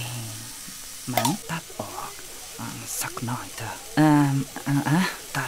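Thai sai ua and other sausages sizzle on a grill at the edge of the stove, a steady hiss and crackle running beneath close conversation that nearly covers it.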